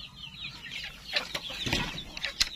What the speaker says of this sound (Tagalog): sisiw nung ating mga Rhode Island Red tsaka nung mga Black Australorp